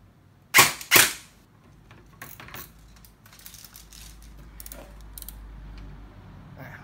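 An E&C 316 electric airsoft BB gun fitted with a stiff upgraded spring fires two sharp, close shots about half a second apart, followed by faint handling rustle.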